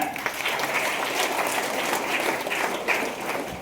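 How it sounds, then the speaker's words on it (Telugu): A crowd of first-year students at an engineering college orientation applauds loudly and steadily for several seconds, a dense, even wash of clapping with no break. "క్లాప్ కొట్టాలి గట్టిగా."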